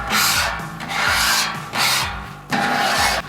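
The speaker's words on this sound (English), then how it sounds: "Now we got the majority of that scraped into our tray here." Metal scraper pushing food residue across a flat top griddle toward the grease tray, loud close rasping strokes, four long scrapes with short pauses between.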